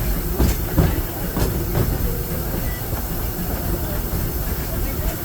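The Disneyland Railroad train runs along its rails with a loud, continuous rumble and hiss, and a few rhythmic clacks from the wheels in the first couple of seconds.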